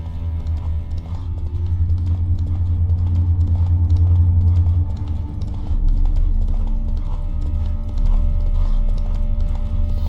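Roach, the horse in The Witcher 3 video game, pounds along at a gallop, with loud, close, rapid hoofbeats rolling continuously and a faint whinny mixed into the steady drumming.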